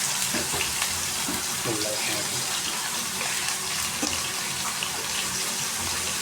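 Onion frying in a pan as home cooking gets underway, giving a steady, fairly loud broadband sizzle and hiss throughout, with a few faint clatters mixed in.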